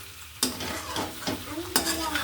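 A Marathi-style mango vegetable curry being mixed in a pan, a spoon scraping and knocking against the metal in a few distinct strokes over a low sizzle.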